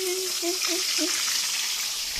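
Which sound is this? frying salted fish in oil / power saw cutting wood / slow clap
frying salted fish in oil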